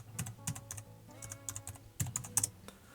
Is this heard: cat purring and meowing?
no